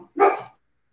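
A dog gives a single sharp bark, close and loud, then silence.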